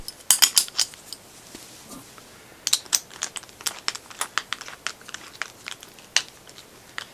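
A nut and washer are fastened onto a woodturning buffing system, giving a series of quick, crisp metallic clicks and small taps spread over several seconds, close and fairly loud with short quiet gaps.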